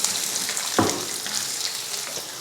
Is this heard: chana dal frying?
yes